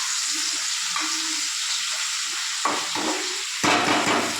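Wet spice paste frying in a pan for chicken kosha, a loud continuous hiss and sizzle with a few stirring scrapes, no talk.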